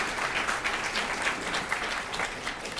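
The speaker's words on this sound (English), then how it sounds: "let's give a round of applause and thank again all of our speakers today" An event audience gives a round of applause to thank the speakers, a short burst of dense, steady clapping from many people, moderately loud and without speech.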